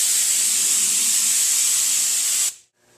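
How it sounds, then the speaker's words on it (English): Spray glue hisses steadily onto wood and foam for upholstery, a loud close continuous spray lasting about two and a half seconds before it stops abruptly into near silence. "Lift up the piece of wood and start spraying."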